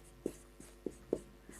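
Pen or chalk writing on a surface during a Home Science lesson: a few short, faint scratching strokes in an irregular rhythm, close by and heard alone.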